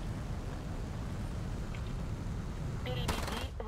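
Rapid rounds fired in a combat video game come as a continuous, dense roar of gunfire that holds steady and loud throughout, with a few sharper bursts near the end.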